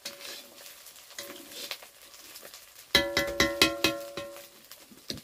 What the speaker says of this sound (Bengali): ভালো করে আদা রসুনটাকে ভালো করে নাড়াচাড়া করো